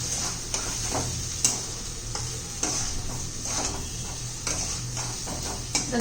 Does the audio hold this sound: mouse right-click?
no